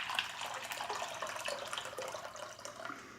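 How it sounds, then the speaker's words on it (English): Cold filtered water poured into a heated saucepan: a soft, continuous splashing trickle with faint hiss and sizzle, quiet and close, lasting a few seconds without talking. "I'm going to add a couple cups of cold filtered pure water to our heated saucepan"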